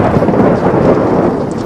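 Loud, close thunder rumbles deep and continuously during a storm, with rain falling steadily throughout.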